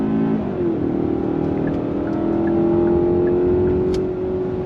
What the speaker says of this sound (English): you can hear that 4-cylinder is really working there and it is kind of loud